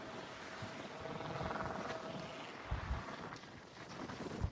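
A large roadside wind turbine gives off a steady whooshing whir, mixed with heavy wind noise and a few low thumps.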